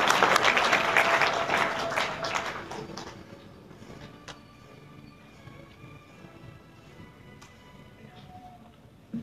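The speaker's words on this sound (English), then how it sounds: "give him a hand clap one more time" A church congregation applauds with hand claps, a loud burst of clapping that fades out after a few seconds into a quiet room with scattered soft taps.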